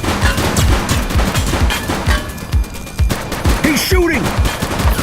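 Gunfire in the police video game The Precinct, loud rapid shots in quick rhythmic bursts close by, with a brief voice heard partway through.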